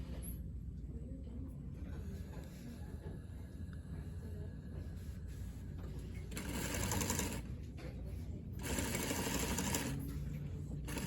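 A sewing machine edge stitches a gathered sleeve cuff in two distinct whirring runs of fast, even needle clatter. Quieter background hum and handling noise fill the gaps between runs.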